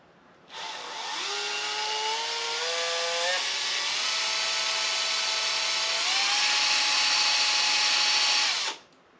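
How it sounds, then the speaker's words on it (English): Power drill grinding into a stuck bolt head on an old Mercedes, a loud continuous whine close by that starts abruptly, shifts pitch as the bit bites, runs steadily for about eight seconds, then stops. "So I am going to try to drill the hole out basically on this thing."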